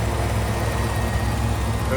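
A 1980 Jeep Cherokee with a 360 V8 idles steadily on a hot day, a low even rumble running beneath someone talking.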